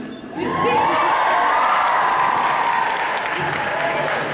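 At a convention panel the audience breaks into loud sustained applause with cheering and whoops after a brief lead-in, a dense crowd roar throughout.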